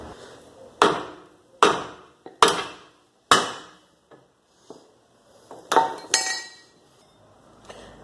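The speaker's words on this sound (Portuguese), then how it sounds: "eu vou demonstrar aqui como é que solta com o toco e o martelo" A hammer beats on a wooden block to knock loose a ball joint on a Volkswagen Golf during home repair work. About six loud, ringing strikes land in uneven bursts, with a few faint knocks between them.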